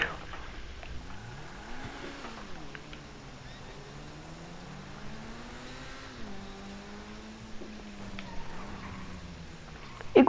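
Steady car engine drone in Grand Theft Auto V, from a Turismo Classic, rising and falling in pitch as it revs and shifts through gears, moderately loud and continuous with faint background noise.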